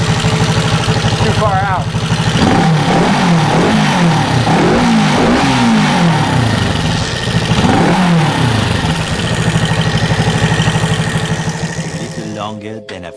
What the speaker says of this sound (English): I'm going to warm it up so then I can adjust the idle screw.